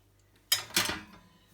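A frying pan used for fried potatoes is picked up and set down for washing, giving two close metallic clatters followed by a brief rattling tail, with no talking.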